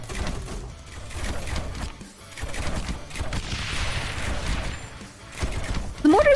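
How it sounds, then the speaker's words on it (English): Mortars firing in the tower defense video game Rogue Tower, a dense continuous barrage of booms and crackling blasts layered over game noise, loud and sustained with a sharp sound at the end. "Mortars go boom."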